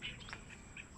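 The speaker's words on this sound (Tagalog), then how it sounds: "Ayan mga maawit ang mga ibon guys." Small birds chirp and sing in a sugarcane field, a few short bright calls standing out near the start and again toward the end over a steady outdoor hum, with no one talking.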